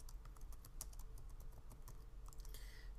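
Someone types a short line of text on a computer keyboard, the quick clicking keystrokes close but faint against a quiet background.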